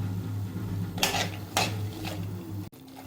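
A jaggery mixture being stirred in a pan, with a few metallic scrapes of the spoon against the pan over a steady low hum, ending in a sharp knock.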